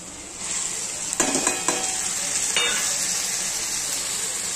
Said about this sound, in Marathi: आता हा बघा कांदा ब्राऊन कलर होईपर्यंत भाजत आलाय